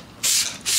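A spray bottle mists a garden plant at night to treat it against hornworms, giving two quick, close hissing bursts separated by a short pause.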